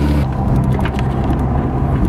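A Mazda FD RX7 with a rotary engine drives along, its low, steady engine drone filling the cabin continuously with road rumble and no talking.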